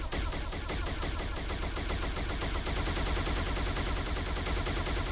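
Continuous rapid turret fire from a Shadow vehicle in Halo 3, a dense, unbroken stream of loud shots that holds steady for the whole stretch.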